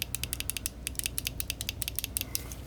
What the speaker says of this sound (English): As you guys can hear, there's really good action on the switches.